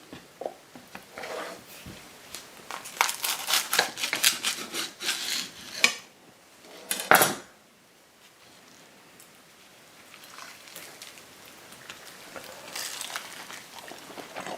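Knife cutting through a crisp shrimp scampi quesadilla on a plate, a series of dry crunching, rasping cuts close up, then a sharp crackle and a quieter stretch of faint scraping.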